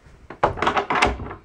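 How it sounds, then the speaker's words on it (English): A door is shut at home at night, a couple of solid wooden thunks and knocks close by, brief and fairly loud. "I'm close the door"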